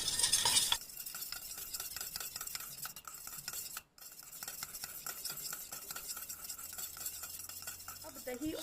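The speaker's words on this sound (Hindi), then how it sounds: "अब इन दोनों को डाल के हमने अच्छी तरह से मिलाना है।" A spoon stirs yogurt and oil together for cake batter, producing steady, repetitive scraping and clinking strokes against the container, close and fairly quiet.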